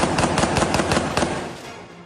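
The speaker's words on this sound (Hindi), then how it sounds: "फिलिस्तीन में सड़कों पर जबरदस्त फायरिंग" Heavy gunfire crackles in the streets of Jenin, Palestine. A loud, rapid burst of shots is followed by a rumbling echo that fades out.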